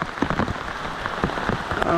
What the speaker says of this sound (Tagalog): Grabing ulan, malakas talaga